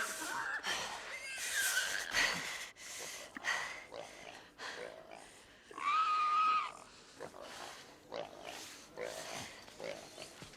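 Loud boar grunts and squeals from The Last of Us Part II come in repeated bursts, harsh and close, with a few shrill cries rising above the snorting.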